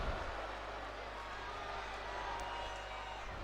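A large arena crowd in the WWE 2K24 wrestling game gives off a steady broad roar of cheering and murmur, continuous and fairly distant, with no distinct individual voices.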